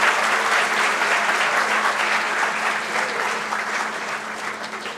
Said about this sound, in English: Let us clap for our principal ma'am.